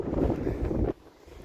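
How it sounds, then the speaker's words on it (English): Strong gusts of wind buffet the microphone on the mountain ridge of Sgurr Dearg, a loud roaring rumble that cuts off abruptly to a quieter hush after about a second. "because it's a bit windy"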